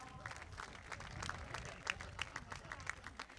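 A faint audience applauds a departing speaker at a public ceremony, steady scattered clapping continuing throughout with a few sharper claps standing out.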